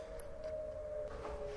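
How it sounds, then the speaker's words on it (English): A steady wailing tornado siren tone holds at a constant pitch, faint and distant, with no voices. "those are the tornado sirens going off"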